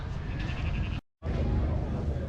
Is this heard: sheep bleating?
yes